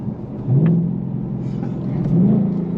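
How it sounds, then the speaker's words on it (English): Ford Mustang Dark Horse V8 on twisty back roads, a moderate engine rumble with two short rising blips as the revs lift during downshifts. "it has automatic rev matching"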